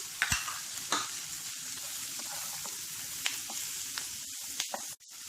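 Green chilies and cashews sizzle steadily in a hot pan, with a few light scrapes and clicks of stirring. Quiet, with no talking.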